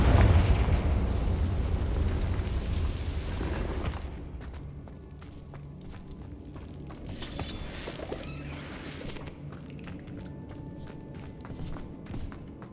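A Confringo fire spell explodes in the Hogwarts Legacy video game, a loud, deep blast and rumble at the start that decays over several seconds, followed by quieter footsteps, scattered pops and game effects.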